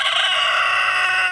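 A loud, close rooster crow on a street in Fairhope, one sustained cock-a-doodle-doo lasting just over a second with no talk around it.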